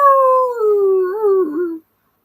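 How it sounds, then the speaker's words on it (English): A single dog howls in the film Independence Day, a loud, close, sustained tone that slowly falls in pitch and wavers before cutting off abruptly, followed by silence. "Look at the dog."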